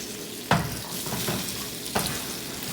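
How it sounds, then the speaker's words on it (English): Chorizo and eggs sizzle steadily in a frying pan while a spatula cuts through them, with two sharp scrapes against the pan standing out over the continuous close frying hiss. "I'm just cutting it with the spatula. And I'm parting it, putting it in sections."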